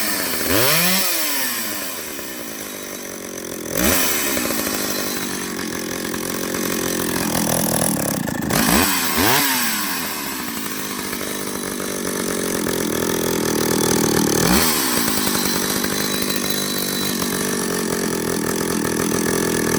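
A vintage Stihl 031 AV chainsaw runs loud and close, its engine revving up and down in repeated rising and falling surges before settling into a steady roar.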